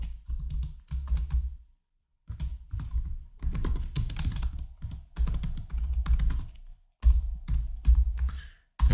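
C code is being typed on a computer keyboard, with close, rapid clattering keystrokes in bursts separated by brief pauses.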